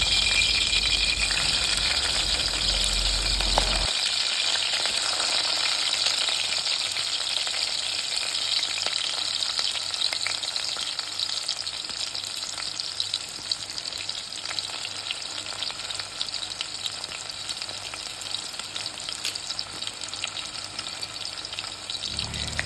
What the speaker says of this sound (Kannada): ಅದಕ್ಕೆ ಕರಿಬೇವನ್ನು ಒಗ್ಗರಣೆ ಹಾಕ್ತಾ ಇದ್ದೇನೆ ನೋಡಿ.